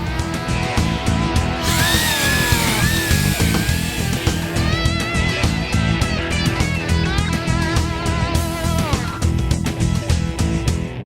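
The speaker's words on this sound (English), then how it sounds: "We're gonna buff this bad boy out." A power buffer whines continuously with rising and falling pitch, grinding and rubbing against a wet-sanded guitar body during polishing, loud and close throughout.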